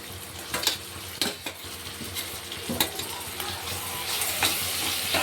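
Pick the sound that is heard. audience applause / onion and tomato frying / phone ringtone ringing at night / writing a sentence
onion and tomato frying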